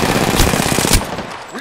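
Rapid automatic gunfire in the game Apex Legends, a loud dense burst of close shots that cuts off abruptly, leaving a fading tail.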